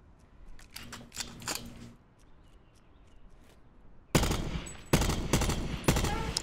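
Burst rifle gunfire in Call of Duty Blackout: a few quieter rapid shots early on, then after a lull several loud, sharp three-round bursts close up in the final seconds.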